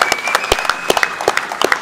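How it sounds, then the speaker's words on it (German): An audience at a travel talk at the Caravan Salon Düsseldorf applauds, sharp close hand claps scattered irregularly, loud and lively for a brief moment. "Das ist euer Applaus."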